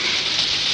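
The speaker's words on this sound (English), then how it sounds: "I'm afraid if it continues to rain very heavily, this place might flood." Heavy storm rain pours down in a dense, loud, unbroken hiss, very brief and close with no voices heard.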